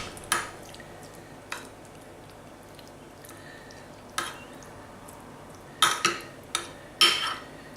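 A spoon spreads Bolognese-style sauce across a greased lasagne dish, giving soft scattered scrapes and a few sharp clinks of utensil on dish against a quiet kitchen background, with no talking.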